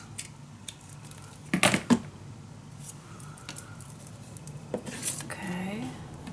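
Scissors snip craft paper for a traveling suitcase project, a couple of quick crisp cuts followed by rustling paper and faint handling, with someone talking in the background.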